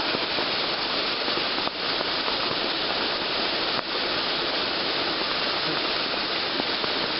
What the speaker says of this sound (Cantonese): 而家真係非常之大雨啊